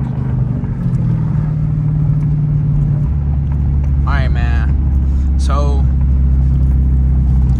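A steady low engine rumble and exhaust drone from inside a Dodge Challenger R/T in slow traffic, with someone speaking briefly over it.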